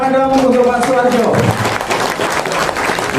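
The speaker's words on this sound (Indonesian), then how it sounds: "Tepuk tangan dong untuk Pak Suwarjo." Audience applause for a speaker at a corporate event, clapping building up under a voice and continuing steadily, loud and close throughout.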